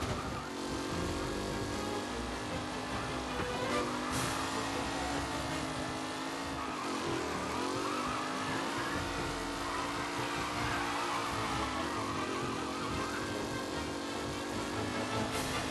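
Race cars roar through the final lap of a race in the video game Mafia: Definitive Edition, a dense, steady engine drone with rising and falling pitch as the cars accelerate and shift, with no talking.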